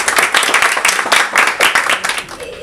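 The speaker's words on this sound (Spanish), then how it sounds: "Un aplauso." A small audience claps at a book presentation in a bookstore in Segovia, a short, close round of hand clapping with a pulsing rhythm that carries on without talk.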